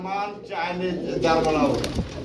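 Pigeons of a fancy breed kept for sale in pairs coo repeatedly at close range, the soft throaty calls layered under someone talking throughout.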